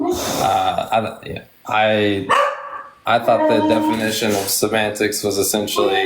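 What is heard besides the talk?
dog barking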